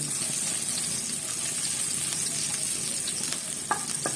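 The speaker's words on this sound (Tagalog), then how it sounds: "Tapos lagay natin yung sibuyas. Yan. Hanggang maging light brown." Chopped onion sizzles steadily in hot oil in a pan during a Filipino vegetable sauté, browning to a light golden color; a constant dense crackle with occasional stirring scrapes, close and alone, no talk.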